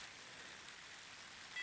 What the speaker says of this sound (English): You can tell it's raining a little bit on us.